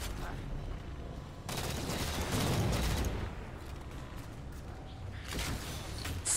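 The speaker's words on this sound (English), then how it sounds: "Where am I being shot from?" Sustained gunfire in the Halo 4 video game, a dense loud barrage of shots with bursts and booms running nearly throughout, one heavy flurry in the middle, with no talking over it.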